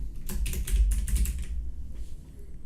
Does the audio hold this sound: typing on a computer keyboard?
yes